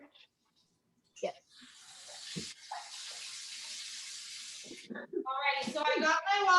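Warm tap water runs into a measuring cup for challah dough, a steady hiss of flow for a few seconds between brief handling noises, followed by a person talking.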